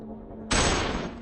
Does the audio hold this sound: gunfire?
yes